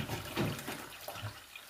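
A toilet flushing through its siphon mechanism, water rushing and gurgling into the bowl close by for under two seconds, with no talk over it.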